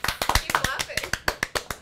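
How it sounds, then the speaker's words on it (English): Hands clap in a steady, quick rhythm of about a dozen sharp claps, close and fairly quiet, with a few irregular taps at the start. "I just want to keep you clapping. Come on! It looks like a clap. Keep clapping."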